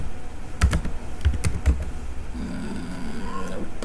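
A password is typed on a laptop keyboard as a few sparse, sharp key clicks, heard close over a faint steady background hum.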